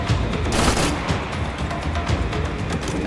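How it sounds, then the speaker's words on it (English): Gunshots boom in Max Payne 3 during a pier shootout, a dense, loud fusillade of overlapping shots and heavy reports with no pause between them. "I'm gonna shoot a couple bullets to make sure"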